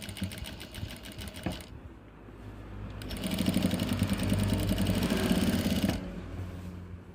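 Sewing machine stitching a V-neck kurti, running in close rapid rhythmic bursts that pause briefly and then resume for a longer steady stretch, with no speech.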